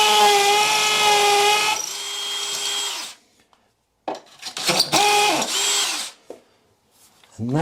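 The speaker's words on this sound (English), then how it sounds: "once you pop through the tile, that's when you can switch over to the hammer function now" A hammer drill whines loudly in bursts through a tiled wall, its pitch dropping as it bites, then stops; short start-stop drilling follows with brief silences between.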